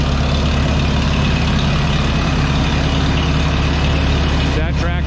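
A loud vintage Minneapolis Moline tractor engine revs and rumbles steadily through its Stanley muffler, a deep continuous drone close by.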